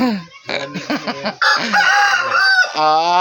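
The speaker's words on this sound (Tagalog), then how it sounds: "may alaga ka pala yan manok?" A pet rooster crows loudly and close by in a long wavering cock-a-doodle-doo with a clear rising and falling pitch, preceded by a short spoken exclamation.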